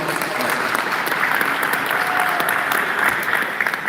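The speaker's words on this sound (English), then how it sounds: "Let's give a round of applause for Gil Simmons." An audience at a Veterans Day concert gives Gil Simmons a round of applause, a loud, continuous wash of clapping with a few cheers throughout.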